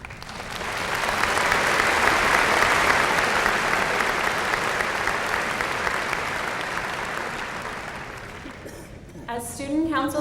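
Applause at a 2000 high school graduation ceremony in Russellville, a large crowd clapping steadily and loudly, swelling then slowly fading, with a voice starting to speak at the very end.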